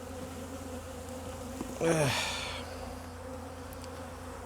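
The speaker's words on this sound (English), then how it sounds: "There's a bee here trying to sting me, go away." Bees hum steadily around an opened hive, with one bee buzzing loudly past up close for about a second over a quieter background drone; a voice is heard briefly.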